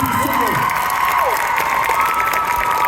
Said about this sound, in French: Applaudissez bien fort tous les participants.